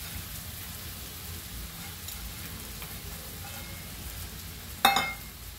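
Sprouted moth beans tipped into hot oil and spicy masala for Maharashtrian misal, giving a steady low sizzle throughout and a sharp burst of crackling near the end as they hit the pan.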